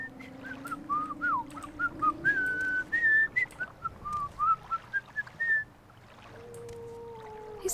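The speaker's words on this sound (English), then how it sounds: "He's so good at whistling." Fargoth, a character in the video game Morrowind, whistles a lively tune in a string of short, bright notes and slides for about six seconds, clear and close, then stops as a low hum continues.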